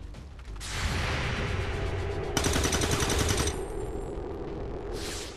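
Gunfire in the turn-based strategy video game XCOM 2: loud sustained automatic bursts rattle in rapid succession, with dense crackling shots and a brief swoosh, continuous across the clip with no talking.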